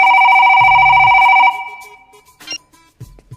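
An office telephone rings loudly and steadily for about a second and a half, then cuts off, leaving a few faint clicks and soft knocks.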